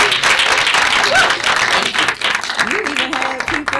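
An audience at a Black History Month arts celebration applauds with loud, dense clapping, a voice speaking over it, the clapping thinning slightly toward the end.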